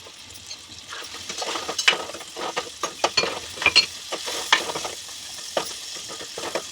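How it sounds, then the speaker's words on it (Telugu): Tomato pieces fry with ginger paste and turmeric in a pan while a spoon stirs them. Irregular scraping knocks sound over a soft, constant sizzle, close and with no talk. "టమాటా ఫ్రై చేసుకొని వేసుకుందామండి"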